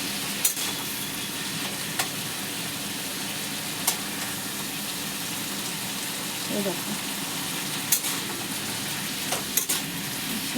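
Vegetables for a simple vegetarian curry sizzle steadily in a pan with turmeric added, punctuated by occasional sharp clinks of a utensil stirring, while someone speaks briefly over the frying.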